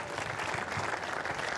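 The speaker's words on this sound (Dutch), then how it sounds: "De winnaars, dus het hardste applaus mogelijk, Sander Arends en Niels Lootsma." Continuous applause from an audience, a dense wash of clapping at even loudness throughout.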